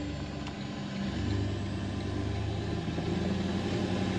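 79 Series truck with an 8-speed conversion, its engine running steadily after a downshift to third, a low, moderately loud hum that rises slightly in pitch and stays even throughout.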